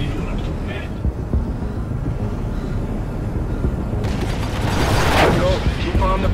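Ship weapons fire during a space dogfight in the Star Citizen video game, a dense rumbling barrage of energy shots that swells louder toward the end over a constant engine drone.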